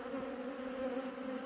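A calm, well-populated colony of honeybees hums during a winter hive inspection: a steady, close, even buzz with no talk over it.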